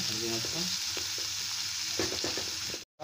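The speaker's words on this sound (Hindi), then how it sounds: "डालते हैं प्याज प्याज को हल्का सा ब्राउन कर लेंगे हम उसको ब्राउन होने देते हैं" Onions sizzling in a pan with fried ginger and garlic, a steady loud hiss with scraping stirring strokes, the sound cutting out abruptly near the end.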